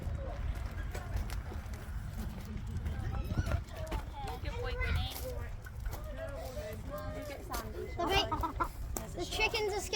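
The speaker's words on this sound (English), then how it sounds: "The chicken's escaping." Chickens cluck repeatedly at close range amid other farm animals at Longleat during a camping trip, their busy calls scattered throughout while people talk and exclaim over them.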